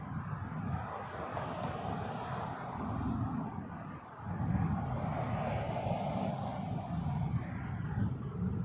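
An aircraft takes off from runway 05 at Toronto Pearson, a broad distant jet roar that swells and ebbs in two long waves with a short dip between, heard through steady background noise.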